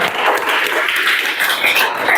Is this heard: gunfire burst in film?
no